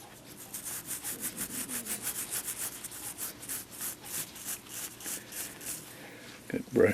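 A small brush scrubs gunk out of the lantern pinions of an old railroad-style cuckoo clock, a steady run of quick rhythmic bristly strokes at close range, ending in a brief clatter.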